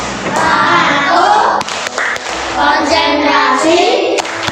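A class of students claps together in a rhythmic concentration-clapping game, loud close hand claps and thumps in patterned bursts, with chanting voices over the beat.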